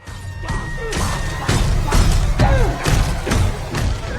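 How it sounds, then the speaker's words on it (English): A clown in a horror film, the killer clown from IT, repeatedly smashes his head against glass: a series of heavy, loud thuds and crashing impacts about every half second, with a crowd-like rumble underneath. "the clown starts violently smashing his head against the glass, trying to reach the boy"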